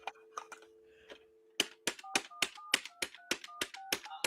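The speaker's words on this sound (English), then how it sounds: "Alex is calling Triple H on a very real phone" A telephone is dialed with a run of clicky button presses, irregular at first, then a steady sequence of sharp taps with short tonal beeps, close and clear with no talking.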